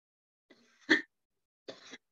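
A man coughs close by, a short throat-clearing rasp leading into one sharp cough, then a second rougher cough after a pause, in a quiet room.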